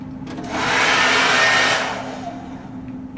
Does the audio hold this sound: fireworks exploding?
no